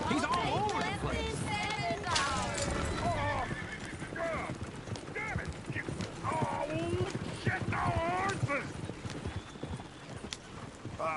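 Horse hooves clip-clop steadily on the ground, mixed with loud neighs and whinnies, while people talk over the scene throughout.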